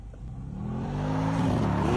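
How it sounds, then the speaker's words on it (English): A Mercedes-AMG G-Class engine accelerating nearby, with a low engine note rising steadily in pitch and loudness over two seconds and no talk. "Ooh, it's an AMG, you can hear it."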